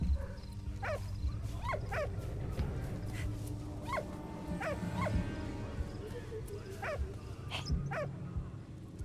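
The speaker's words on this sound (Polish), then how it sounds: "Okej, okay, mamy naszego psa." A dog in the video game Valiant Hearts gives a string of short, evenly spaced yips and whimpers, repeating about every second over a low ambient game background with faint talk.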